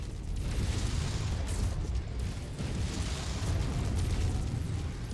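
A mech is destroyed in a rumbling explosion in MechWarrior 5, with deep, booming blasts and crackling debris rolling continuously for several seconds, loud and close.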